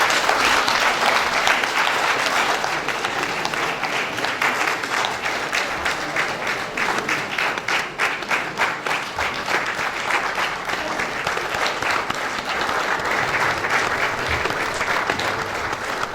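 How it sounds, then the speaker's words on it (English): A lecture audience applauds at length after a theology talk, a loud continuous wash of many hands clapping that stays steady and dense throughout, with a faint voice or two beneath it. "That lecture is indeed worthy of a round of applause."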